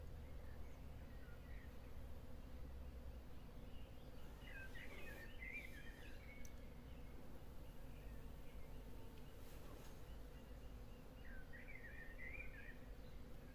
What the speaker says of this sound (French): On entend l'abeille, elle doit être là